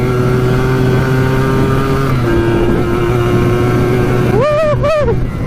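Yamaha Blaster ATV engine droning loud and steady through the gears, then rising in sharp revving sweeps near the end, close and continuous with no talk.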